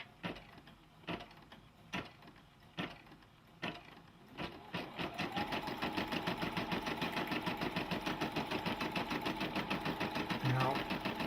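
A Brother combination sewing and 4x4 inch embroidery machine stitches, first with a few separate clicks and thumps, then settling into a steady, fast mechanical chatter that runs on without pause, close by.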